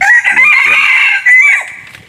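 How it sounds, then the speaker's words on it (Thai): A decoy rooster used for trapping wild junglefowl crows loudly and close by, one long drawn-out cock-a-doodle-doo call heard alone outdoors. "ไก่คันแล้ว อันนี้ไก่ต่อเขาคันนะ"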